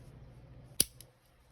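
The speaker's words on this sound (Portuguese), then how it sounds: "Eu vou cortar o fio." A single quick snip of scissors cutting crochet yarn while working on a crochet clutch bag, close and crisp, followed by a faint second click, otherwise quiet.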